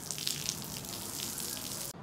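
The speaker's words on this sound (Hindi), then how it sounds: "जहाँ पे अभी पानी डाल रहा हूँ" Water pours steadily onto a freshly levelled surface at a construction site, a continuous broadband splashing rush that runs unbroken for about two seconds before cutting off abruptly.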